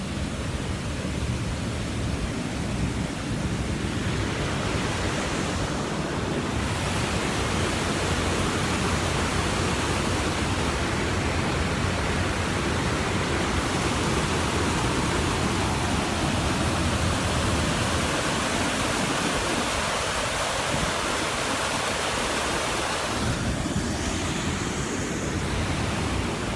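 Water rushing steadily in Socotra, a broad, loud roar of flowing water like a waterfall or fast stream, continuous and close throughout with no clear pauses.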